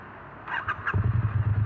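A Triumph Bonneville T100 motorcycle at a dealership is started: a brief whirring starter chirp, then the twin engine catches into a low, throbbing idle pulse, close up.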